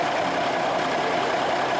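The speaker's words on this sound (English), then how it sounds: "this thing could sit here idling for hours" An M925A1 military truck's heavy engine idles steadily with a rough, even rumble, close and loud, with no other sounds.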